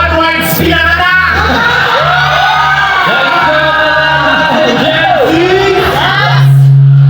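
A crowd at a Filipino event roars in reply to a call to make noise, with loud whoops, yells and screams rising and falling for several seconds before a low rumble.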